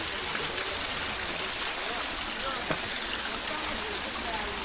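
A small trickle of water flows over rocks at the Nirmal (Mehaboob) ghats waterfall during a low-water period, giving a steady, soft, close rushing wash heard alone.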